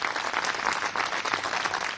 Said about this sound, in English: Give her a round of applause, ladies and gentlemen.